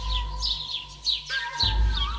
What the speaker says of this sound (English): The birds that would hum as they flitted past us in an array of colors